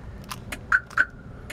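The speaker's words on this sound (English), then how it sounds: "So if I push this, you hear it beep." Two short, clear electronic beeps from the alarm system of a 1970 Chevrolet Chevelle SS, spaced about a quarter second apart, close and fairly loud over faint background noise and a few small clicks.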